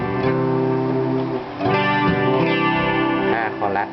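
Guitar played through a Boss ME-8 multi-effects unit with reverb engaged, sustained distorted chords ringing loud and continuous with a short dip, washy tails blending between notes, and a voice talking over it.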